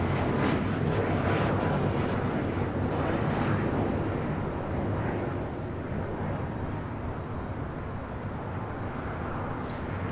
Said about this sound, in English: That was United Airlines Flight 1374 heading to Denver on a 737 MAX 9.